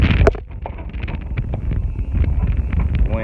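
Gusty wind buffets the microphone outdoors on a windy Oklahoma day beside a CAT 320CL excavator, a loud, ragged roar that surges and dips throughout with no talk.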